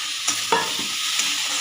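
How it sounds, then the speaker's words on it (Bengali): Spoon stirring fried potato with spices and rice in a pan for Bengali thor pulao ghonto, a few soft scraping strokes over a low steady sizzle, close and fairly quiet. "আলুটার সাথে মশলাটা ভালো করে মিশিয়ে নেব।"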